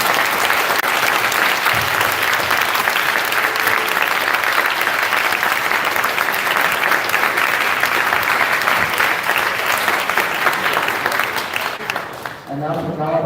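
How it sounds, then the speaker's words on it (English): A large crowd at a physics tournament final applauds loudly and steadily, a dense wash of clapping that carries on for a long stretch before tapering off near the end. "let's give once again a big applause to all 3 teams"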